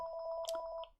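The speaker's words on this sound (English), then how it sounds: "Oh, that's the phone." A telephone in a repair workshop rings with a rapid warbling electronic trill, close and clear, breaking off after about a second.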